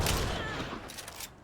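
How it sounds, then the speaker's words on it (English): A frag grenade explodes in the game Hunt: Showdown with a loud, close blast that opens the clip and then fades into a rumbling, crackling decay over about a second and a half. "as soon as I get a hit marker from the explosion"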